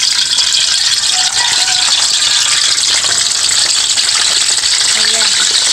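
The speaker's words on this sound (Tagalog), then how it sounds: "magprito po tayo ng manok" A whole chicken frying in hot oil, a dense, steady loud sizzle and crackle throughout with faint squealing bubbles.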